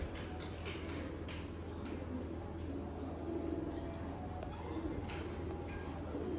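Golden pigeons cooing softly in a loft, low repeated coos under a steady background hum with faint insect chirping, quiet and somewhat distant.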